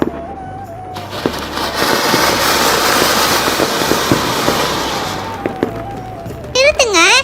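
A ground chakkar spinning firework, a sangu chakkaram, burns with a steady, loud hissing crackle for several seconds. Scattered sharp pops sit over the hiss, and voices come in around it.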